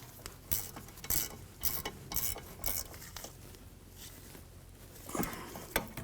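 Bolts on the rear brakes of a 2010–2014 Volkswagen GTI are snugged down, producing a series of quiet metallic clicks and ratcheting taps in an irregular rhythm, with a few sharper clinks near the end.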